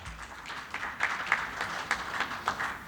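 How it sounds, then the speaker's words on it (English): Audience applause at a chemical industry logistics conference in India, a steady wash of clapping with a few sharper individual claps standing out, moderately distant and fairly quiet, with no talking over it. "Let's keep the applause going for Mr. Manish Panchal."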